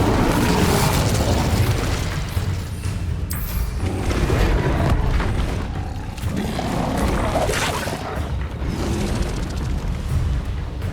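Spell explosions such as Bombarda and Incendio in Hogwarts Legacy, a loud continuous rumble of booming blasts and roaring fire that stays dense and heavy throughout.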